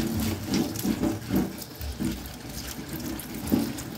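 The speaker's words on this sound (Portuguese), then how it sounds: "Ligo a água bem levinho e vou esfregando." Gentle tap water runs over a head of lettuce held in a sieve, with soft splashing and rubbing pulses as the leaves are scrubbed; the flow stays low and steady.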